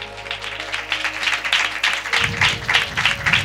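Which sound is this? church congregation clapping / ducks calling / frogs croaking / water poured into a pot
church congregation clapping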